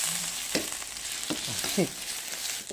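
Curry paste sizzling and stir-fried in a hot pan for spicy eel, a steady frying hiss broken by a few short scraping stirs of the spatula, close and fairly loud.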